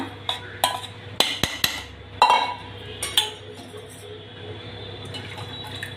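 A spoon works chilled curd into rice in a bowl, scraping and clinking against the dish in irregular taps and knocks with soft wet squishing between them, close up, no speech.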